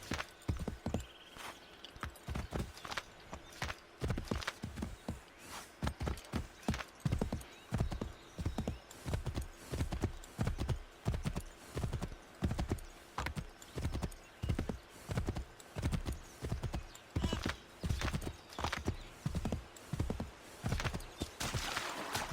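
In the Assassin's Creed 3 video game, horse hooves clip-clop in a steady, rapid rhythm for the whole stretch. The hoofbeats sound fairly soft and close, with an occasional faint whinny and no talk over them.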